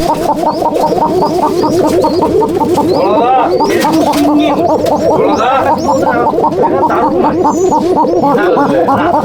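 Chatiyal pigeons in a loft give loud, gurgling coos that repeat in a rapid rhythm, with several birds calling at once close by and a few higher chirps mixed in.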